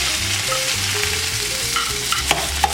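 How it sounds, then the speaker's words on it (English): Onions and tomatoes sauteing in a pan for black paella, a continuous close sizzle with soft stirring scrapes and a couple of small clicks, no voices. "Now I want to saute all the ingredients first."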